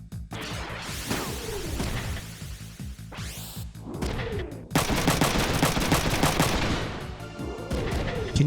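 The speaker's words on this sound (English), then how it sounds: "Let's shoot this guy instead." A mech in a mecha video game fires at an enemy, loud repeated bursts of heavy gunfire with crashing impacts and swooshing sweeps, dense and close throughout.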